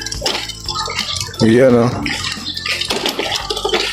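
Running water being wasted gushes steadily close by, with a brief louder splash mid-way, beneath Filipino conversation between two people.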